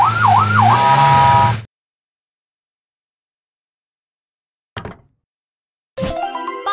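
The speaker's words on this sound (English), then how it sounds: "Police car." Police car siren in a kids' vehicle learning video game: a rapid warbling wail for about a second and a half, then silence broken by a short thump and another loud electronic burst near the end.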